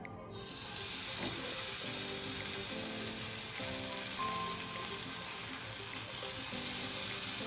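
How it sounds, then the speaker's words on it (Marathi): A marinated paneer tikka piece sizzles on a hot tawa, giving a steady, loud, close frying hiss that fills the whole stretch with no talking. "आता मी एक पीस तव्यावर ठेवते असं मसाला लावून."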